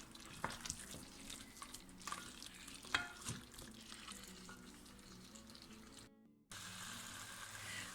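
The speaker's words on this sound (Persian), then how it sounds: "اون رو به همراه گوشتمون حدود 1 دقیقه تفت میدیم" Tomato paste and meat frying in a pan for a traditional Persian meat stew, a steady crackling sizzle with occasional stirring scrapes, briefly cutting out before resuming loud and close.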